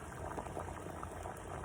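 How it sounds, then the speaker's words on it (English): A pot of water at a full rolling boil gives a steady, roaring bubble and hiss that runs unbroken from start to finish, with no voices. "And now the surface of the water is starting to boil. And we have a pot of boiling water"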